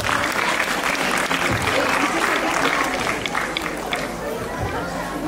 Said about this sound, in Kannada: ಚಪ್ಪಾಳೆ ಹೊಡೆಯುವ ಮೂಲಕ ಪ್ರೋತ್ಸಾಹ ನೀಡೋಣ